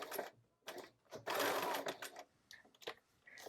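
A home sewing machine stitches a foundation paper pieced quilt block in short close bursts, its needle whirring and rattling, then pausing between runs of stitches.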